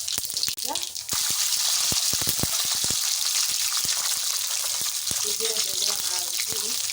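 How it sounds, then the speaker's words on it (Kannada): Urad dal and chana dal frying in hot oil with mustard and cumin for ginger chitranna: a loud, steady sizzle full of rapid close crackles, with a voice briefly heard over it. "ಉದ್ದಿನಬೇಳೆ ಹಾಕಿ ಕಡಲೆಬೇಳೆ, ಇದು ಚೆನ್ನಾಗಿ ಫ್ರೈ."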